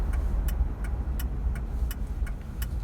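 A Ford Crown Victoria cruises along with a steady low engine and road rumble, joined by a faint, regular ticking, like a turn signal, every few tenths of a second, with no one speaking.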